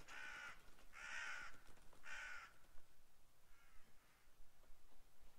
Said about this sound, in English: He is still getting bullied by those crows.